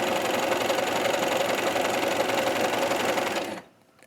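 A sewing machine hemming fabric and finishing the back edge in a single pass runs at a steady, even whirring hum for several seconds, close and alone, then stops abruptly near the end.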